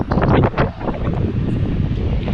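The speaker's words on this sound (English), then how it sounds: "It's windy." Gusty wind buffets the microphone in a steady low roar, loudest in the first half second, with no voices.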